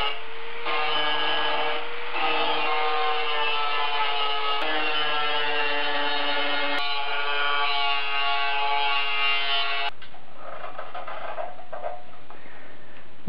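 Power grinder working metal on the front inner fender of a 1976 Mazda RX-5 Cosmo, a loud close whining drone with a few short breaks and pitch shifts, ending in rougher scraping as it spins down, with no talk.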